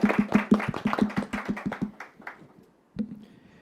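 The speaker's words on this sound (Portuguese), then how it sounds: "Palmas para nós." Brief clapping from a few people after a panel discussion at a seminar, a dozen or so sharp claps in quick rhythm that thin out and stop, followed by a single late clap near the end.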